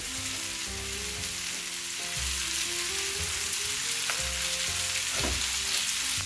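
Peppers and onions fry in a pan with a dense, steady sizzling hiss and occasional stirring clicks, while a tonal hum runs underneath.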